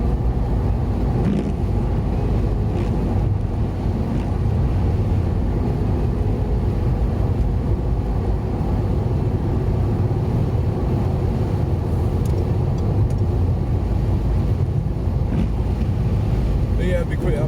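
A Jaguar automatic car cruises on a motorway in North Lanarkshire, Scotland, with steady road and wind noise filling the cabin continuously; someone talks over it.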